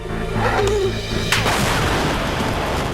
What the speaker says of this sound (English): Explosions. Combustions. Conflagrations. Pressure vessels that undergo catastrophic failure. And plain old big booms.